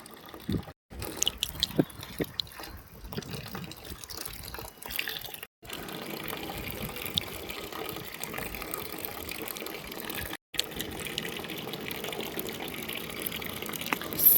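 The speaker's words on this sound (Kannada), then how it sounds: "ಸುಮ್ಮನೆ ಮೇಲ್ಮೇಲೆ ಅಷ್ಟೇ ನೀರು ಹಾಕಬೇಕು" Water is poured lightly over soil where coriander seeds have just been planted, a soft continuous trickle and splash running steadily close by, broken by a few brief gaps.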